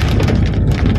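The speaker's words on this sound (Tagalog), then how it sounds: "Napakalakas na naman ang ulan." Heavy rain pours during a typhoon as a loud, dense, continuous roar of water with gusty wind noise on the microphone, with no voices.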